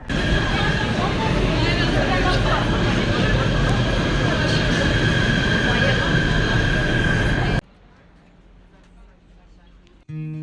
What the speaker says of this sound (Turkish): Şu an metrodayız şaka gibi.